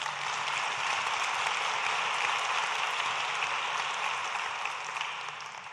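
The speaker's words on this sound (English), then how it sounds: "I want to give you all a massive round of applause for making this happen" An audience at a conference claps in a dense, even wash of applause that holds steady, then slowly fades toward the end.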